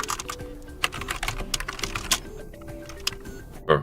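Someone types a date on a computer keyboard, giving quick, uneven clusters of close key clicks over a few seconds and ending with a louder tap, under a low electrical hum.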